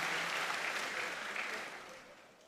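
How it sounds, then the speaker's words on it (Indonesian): Applause for students at a university gathering, a broad wash of many hands clapping from a distance, steady at first and then gradually fading. "tepuk tangan yang hebat untuk anak-anakku"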